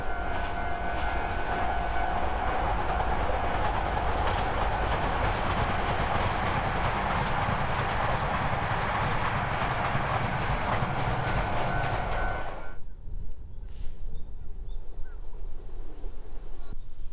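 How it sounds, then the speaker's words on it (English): A train rumbles past nearby with steady, loud clattering and rolling noise for about twelve seconds, then cuts off into quieter outdoor ambience. "Here comes a train."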